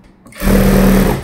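Sewing machine stitching around the neckline of a gown, starting after a brief quiet moment and then running in one loud, steady whir close by.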